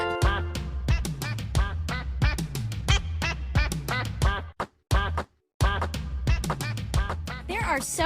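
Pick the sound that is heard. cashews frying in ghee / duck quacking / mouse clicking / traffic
duck quacking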